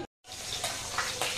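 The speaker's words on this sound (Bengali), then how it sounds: "মাছ ছেড়ে দিয়েছে, এই যে মাছ ভাজা হচ্ছে।" Katla fish fries in a pan, a steady, close hiss of sizzling oil that starts after a brief cut of silence and then continues evenly, with no talk over it.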